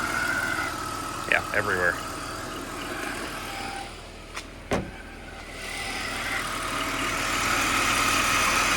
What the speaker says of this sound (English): That's power steering.